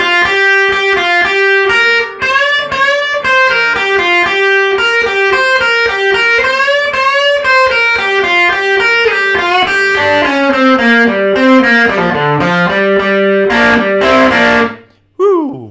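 An electric guitar plays a lead lick, a loud, bright run of picked single notes and bends that ends in a quick descending flourish and a brief cutoff, with no talking.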